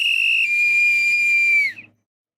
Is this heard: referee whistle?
yes